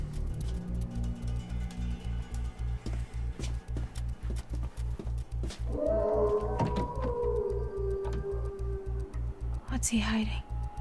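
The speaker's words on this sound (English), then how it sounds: "That was another wolf." A wolf howls in the horror video game The Quarry. A drawn-out, wavering cry rises midway over a continuous rhythmic low pulsing, with a sharper cry near the end.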